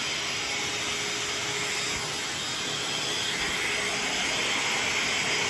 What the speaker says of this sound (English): my mom's using her special nozzle that she uses on her vacuum